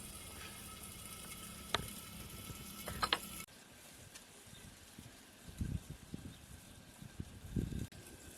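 Chopped onions frying in a pan in a village kitchen, a soft continuous crackle and sizzle punctuated by a few sharp metallic clinks and scrapes, fairly quiet and close.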